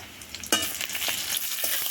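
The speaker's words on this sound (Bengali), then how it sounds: "পেঁয়াজটা আমার বেশ লাল লাল করে ভাজা হয়ে গেছে দেখো তোমরা" Onions fry in a pan with a steady crackling sizzle, joined by a sharp stirring scrape about a third of the way through, close and continuous.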